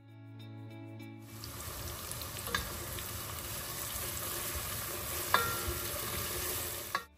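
Finely cut small onions frying in oil in a biryani pot, a steady close sizzle starting after a brief quiet lead-in, with occasional stirring clicks and scrapes and no talking.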